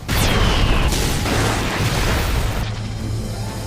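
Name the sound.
explosion from an anime spell attack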